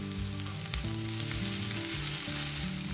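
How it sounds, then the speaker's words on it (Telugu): Onions frying with ginger garlic paste in a pan produce a steady, close sizzle that stays loud and even throughout, with faint tonal sounds underneath. "దీనిలో ఇప్పుడు 1 టేబుల్ స్పూన్ అల్లం వెల్లుల్లి పేస్ట్ వేసి పచ్చివాసన పోయే వరకు వేయించుకోవాలి."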